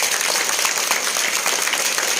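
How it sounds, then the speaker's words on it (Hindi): A crowd claps steadily to thank teachers at a Brahma Kumaris gathering, a dense, continuous patter of applause filling the whole moment without a break. "आप अपने टीचरों को ताली बजा करके धन्यवाद रखो"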